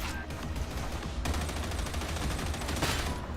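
Rapid autogun fire in the video game Darktide, a dense, continuous stream of shots that stays loud and steady throughout with no pauses or talking.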